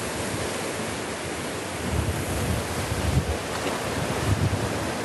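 Steady wind buffets the microphone beside the sea during sar fishing with a rod, mixed with a continuous wash of surf and a few louder gusts toward the end.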